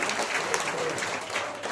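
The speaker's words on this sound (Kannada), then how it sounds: "ಜೋರಾಗಿ ಚಪ್ಪಾಳೆ ತಟ್ಟಿ" An audience claps steadily in a brief, even burst of applause at a village religious recitation gathering, heard at moderate distance.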